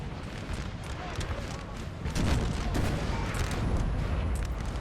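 Massed musket volleys and artillery fire in Napoleon Total War crackle and rumble as a dense, continuous battle din, growing louder partway through and staying heavy to the end.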